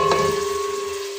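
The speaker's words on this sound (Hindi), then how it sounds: "हमने इस प्याज को फ्राई करना है।" Onions frying in hot oil for biryani give a brief, steady sizzle with a faint ringing tone from the pan, close and without talk.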